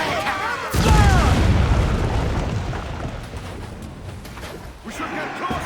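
Ship cannons firing during a naval battle in Assassin's Creed 4 Black Flag: a heavy booming blast with a long rumbling decay, then another boom near the end, with shouting voices over it.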